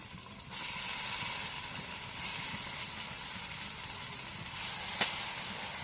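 Napa greens drop into hot oil already frying onion and garlic and set off a sudden loud, steady hiss of sizzling. The hiss continues evenly, and a single sharp click cuts through near the end.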